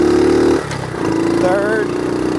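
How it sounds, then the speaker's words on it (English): A 1970 Honda Trail 70 motorcycle with an automatic clutch idles and shifts gears, a loud, close engine drone that dips and resumes, with a rising whine and a voice speaking over it. "maybe you can hear it when I shift gears"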